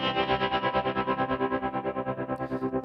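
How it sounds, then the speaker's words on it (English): Sustained guitar chord through a Quad Cortex tremolo pulsing in a steady, fast throb, the wavering volume holding evenly throughout, with a brief high rustle near the end. "if you want another way to turn the tremolo on and off"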